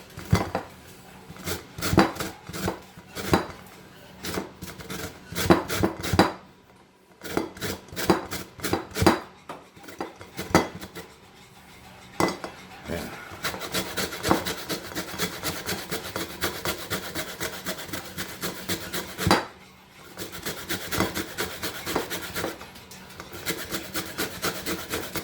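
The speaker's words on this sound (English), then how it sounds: "And just get some lemon zest." Lemon rind is rubbed against a cheese grater, producing rhythmic scraping strokes close up, irregular at first, then a denser run of rasping passes, with no talking.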